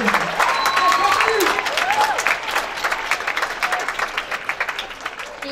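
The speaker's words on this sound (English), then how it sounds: "Round of applause for Jeffrey" A junior high spring concert audience applauds a percussionist with loud, dense clapping and a few cheers, which slowly thins into separate claps toward the end.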